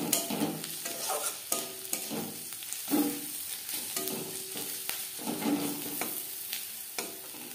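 Onions browned with turmeric powder frying in a pan, a steady sizzle broken by repeated scraping strokes of a spoon stirring, close and moderately loud, no voices.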